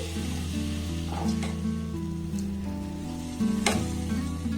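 Thickened, reduced milk is poured over semolina in a hot pan, setting off a steady, close sizzle that holds evenly through the clip, with a couple of brief brighter bursts along the way.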